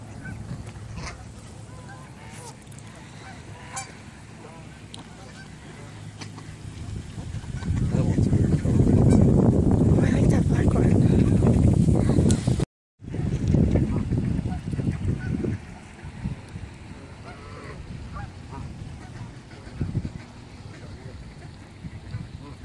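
Ducks and geese honk and quack in a noisy outdoor crowd, with a loud dense burst of calls in the middle and steady background chatter and wind-like noise throughout.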